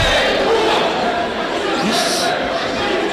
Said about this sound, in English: This crowd is going rocking.